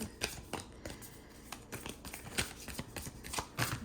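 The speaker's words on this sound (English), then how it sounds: "I'm going to pull a few more cards and see." Tarot cards shuffled and handled close up, a run of quick papery riffles and taps in an irregular rhythm, with no talk over them.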